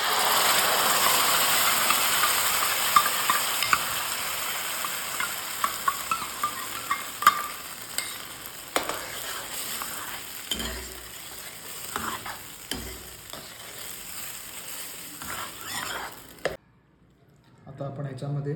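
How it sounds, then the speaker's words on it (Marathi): Tomato paste goes into a hot frying pan for paneer makhani, bringing up a steady sizzle with spoon scrapes and clicks of stirring close by, before the sound drops away at the end. "आता आपण ह्याच्यामध्ये ही आपली जी मगाशी टोमॅटोची पेस्ट केली होती ती पेस्ट आपण ह्याच्यामध्ये घालणार."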